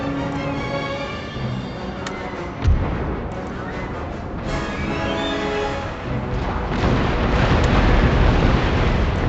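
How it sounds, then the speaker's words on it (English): Ship cannons boom in repeated heavy volleys during a naval bombardment in the strategy game Empire: Total War, with a loud blast near the start and a continuous rumble of broadside fire throughout. "Drop anchor here just to continue bombarding their ship."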